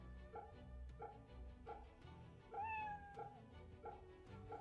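A cat meowing during Samurai Remnant gameplay, with one clear rising meow over a backdrop of steady, repetitive game music, moderately loud.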